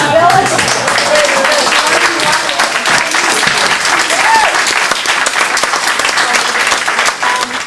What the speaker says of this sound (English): just come up just so that we can clap for you